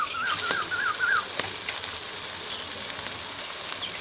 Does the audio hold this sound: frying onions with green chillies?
yes